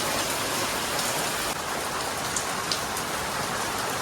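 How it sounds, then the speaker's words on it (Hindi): Heavy rain falls outside in a dense, steady hiss of drops hitting surfaces, loud and unbroken from start to finish. "बाहर बहुत तेज की बारिश हो रही है"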